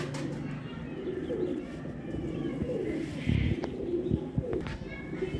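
Royal Teddy pigeons coo in a steady low murmur of overlapping calls, with occasional brief wing flutters and handling sounds nearby; a few quiet voices are also heard.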